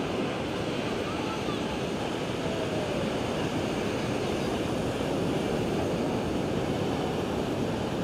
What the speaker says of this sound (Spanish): Aquí el mar está bien picado.